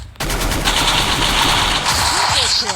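Rapid automatic gunfire in the Free Fire battle royale game, a dense sustained burst of loud shots running almost the whole clip with faint overlapping game effects.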